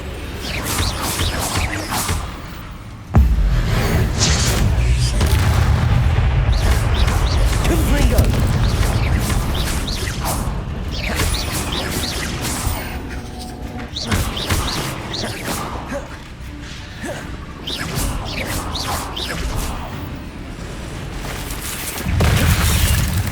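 Confringo blasting spells going off in Hogwarts Legacy during a fight with spiders in a house, loud booming explosions and crashes over dense rumbling game noise, with a voice talking at times.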